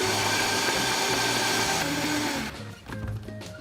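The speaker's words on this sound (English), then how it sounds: "gonna blend that up" A countertop blender whirs loudly through fresh blueberries, running steady and full for about two and a half seconds before cutting out, leaving a brief lower rumble and clatter as it winds down.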